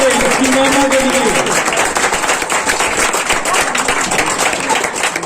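A congregation claps loudly at a Christian worship gathering, a dense, steady wall of applause lasting throughout, with a voice heard briefly over the opening.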